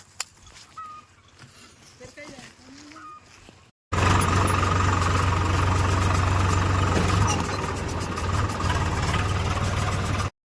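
A loud tractor loaded with river sand runs with a steady, low rumbling drone. Before it starts there is a quieter stretch with a faint voice.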